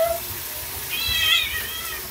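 A cat gives one short, clear meow while being bathed, heard against a low background rumble with no speech.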